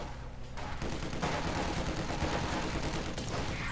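Gunfire from an MG42 machine gun in the game Company of Heroes 2, a dense continuous crackle of shots under a busy battle din that grows louder after the first second and stays steady to the end.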